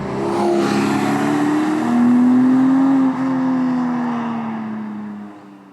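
Porsche 718 Boxster GTS 4.0 sports car with its six-cylinder engine, heard as a loud, steady drone that climbs in pitch while driving, then dips and eases off near the end.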